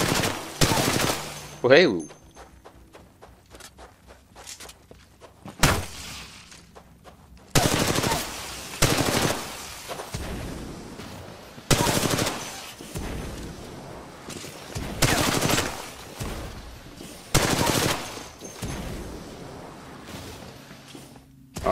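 Bursts of automatic gunfire in Titanfall 2 training arrive in loud, repeated volleys separated by short pauses, with a few brief spoken words near the start.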